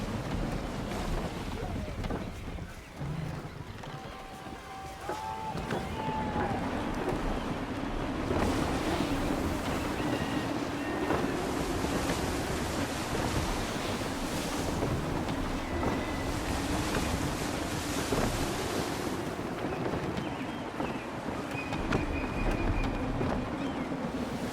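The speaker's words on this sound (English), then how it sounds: "Wind looks to be shifting. Stay alert, Connor. Gusty winds can be difficult to manage." Gusty wind and waves while a sailing ship moves across the sea in Assassin's Creed III, a broad, steady whoosh of wind and surf with creaks and faint voices mixed in.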